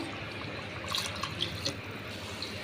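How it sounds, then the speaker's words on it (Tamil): Water being poured from a tumbler into a cooking pot for chicken biryani, a soft continuous trickle with scattered drips and splashes, moderately close, with no voices. "அதனால் மூணு டம்ளர் தண்ணி ஊற்றுறோம்"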